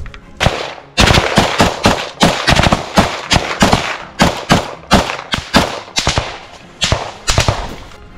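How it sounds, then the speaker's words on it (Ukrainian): Rapid bursts of gunfire in a combat firefight crack repeatedly in uneven volleys, loud and close, with sharp shots piling up in quick succession and no talking. "Веду стрілковий бій."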